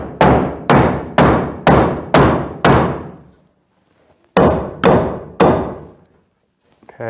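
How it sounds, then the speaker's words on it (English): A hammer drives nails into scrap wood in a garage to fix a ladder's height: six loud, evenly spaced blows, a pause, then three more, each with a short ringing decay. "hammer this back out 1/2 inch."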